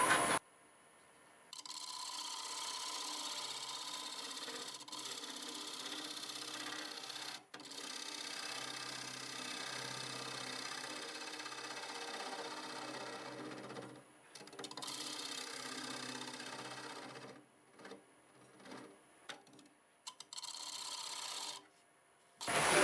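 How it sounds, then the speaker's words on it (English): Scraper and then sandpaper worked against a spinning mesquite blank on a wood lathe, a steady close whirring, rasping drone that runs for long stretches with a few brief pauses. "I suppose we'll go over it a little bit with this scraper, and then we can do some sanding"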